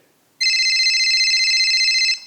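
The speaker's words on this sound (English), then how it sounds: "Hey, your phone ringing." A phone rings during a university English-department stage play, one loud electronic ring lasting under two seconds after near silence.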